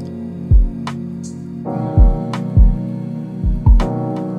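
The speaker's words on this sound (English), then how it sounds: "Then on top of that, I added some drums." Drums layered over a hip-hop beat with piano and a vocal sample: punchy kick hits and crisp snare or hat accents in a steady, sparse rhythm over sustained tones.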